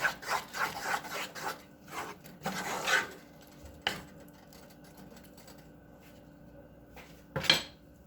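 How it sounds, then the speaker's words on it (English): Melting cheese sauce is stirred in a pan, with repeated rubbing scrapes of a spoon against the pan, dense at first, then sparser strokes and a final scrape. "our cheese is halfway melted now. I want to help it out. Give it a good stirring."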